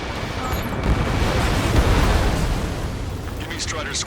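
Ace Combat 7 city under martial law: a dense, sustained wash of gunfire and explosions with deep rumbling booms, loud and close throughout, with brief higher crackles near the end.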